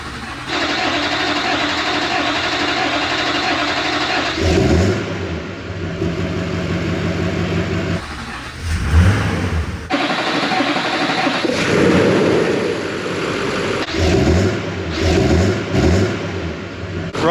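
A Chevrolet Silverado with a 6.6 LBZ Duramax diesel engine running after a fuel injector replacement, a loud, steady, close diesel rumble with several revs and surges rising and falling throughout.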